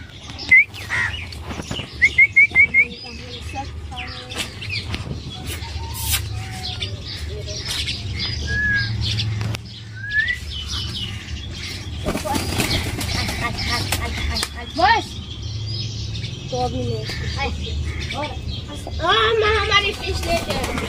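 A pet pigeon pecks at grain and water while small birds chirp and tweet repeatedly around it, with occasional coos and flapping, and people talk intermittently in the background throughout.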